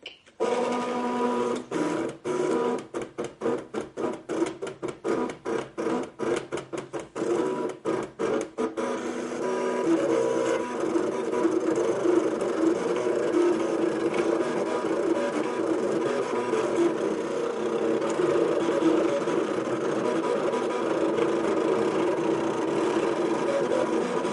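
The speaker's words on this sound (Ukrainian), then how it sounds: "Зараз машинка почне досить голосно шуміти." Cricut Expression electronic cutting machine slicing through card, a steady close mechanical whir with rapid stuttering pulses for the first several seconds, then a continuous buzzing drone running to the end, no talk.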